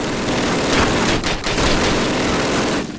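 Dense, continuous machine gun fire in Call of Duty 1 as a gunner keeps shooting, a loud unbroken fusillade holding steady for the whole stretch with no pause.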